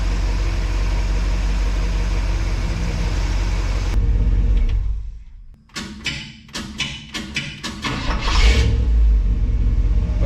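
A 1961 Chevrolet wagon engine runs loud and rough, then cuts out briefly and is cranked again in a burst of uneven starter chugs and thumps before catching and rumbling back up, close by with no talking.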